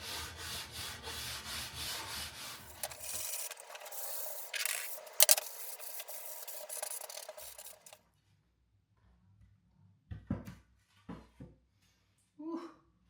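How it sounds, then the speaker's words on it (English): A brand-new fine-grit sanding block rubs along the edges of wood window and door trim in a tiny office build, giving steady close scraping strokes for several seconds, then stopping into quiet with a few faint knocks. "I'm just using this fine grit, brand new sanding block, and I'm just gonna break the edges"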